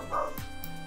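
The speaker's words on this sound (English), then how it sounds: "sorry about the dog barking" A single short bark from a terrier, fairly faint and slightly distant, with a quick whimpering tail and no talk over it.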